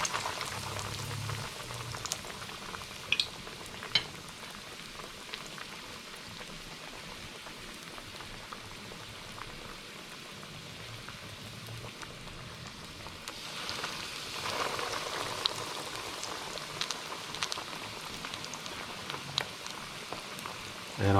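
Scotch eggs frying in hot oil, a steady bubbling crackle like light rain running throughout, swelling a little louder near the end, with no voices.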